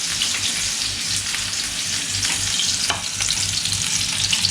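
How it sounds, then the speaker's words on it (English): Sausages frying in spattering hot oil for spicy devilled sausages, producing a loud continuous crackling sizzle with rapid pops and occasional stirring scrapes, close up. "The oil is shooting on my face."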